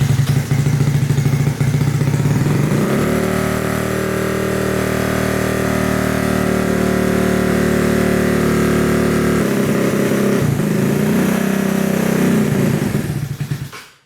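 Honda Ruckus scooter engine running at a steady, loud, close idle for about thirteen seconds, then cutting off abruptly at the end, with no talking.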